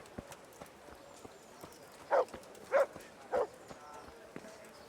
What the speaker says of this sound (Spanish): ¿Por qué estaba ladrando el perro?